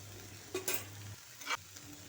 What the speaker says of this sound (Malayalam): മല്ലിപ്പൊടി മുളക് പൊടി മഞ്ഞൾപ്പൊടി ഇവയും ചേർത്ത് ഇളക്കിയ ശേഷം